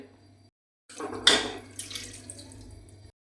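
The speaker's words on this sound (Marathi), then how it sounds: "अजून थोडं पाणी ॲड करते" Water is poured from a tap or vessel into a cooking pot holding cabbage and chana dal, a short splashing pour of about two seconds with one brighter burst near the start, then a softer trickle, with no talking.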